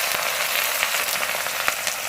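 Onions fry in oil in a kadai with whole garam masala spices, garlic and ginger, making a continuous close crackling sizzle with scattered sharp pops and light stirring clicks, no voices.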